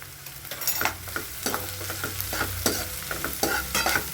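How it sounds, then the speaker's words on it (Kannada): Potatoes frying with cumin seeds in a pan, a steady close sizzle broken by repeated scraping stirs at an uneven rhythm, with no talking. "ಇವಾಗ ಚೆನ್ನಾಗಿ ಒಂದು ಐದು ನಿಮಿಷ ಚೆನ್ನಾಗಿ ಕಲರ್ ಚೇಂಜ್ ಆಗೋವರೆಗೂ ಫ್ರೈ ಮಾಡ್ಕೋಬೇಕು"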